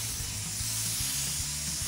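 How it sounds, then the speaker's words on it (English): Contact cement sprays steadily onto a seat panel and foam for a custom interior in a '55 Ford show truck. It makes a continuous, even hiss with a faint low hum underneath and no speech. "spray contact cement on both the panel and the foam"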